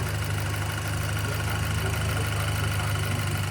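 A VW Scirocco R engine idles smoothly with no misfire, a steady, even low hum with a constant mechanical drone and no stumbles, heard close with no voices.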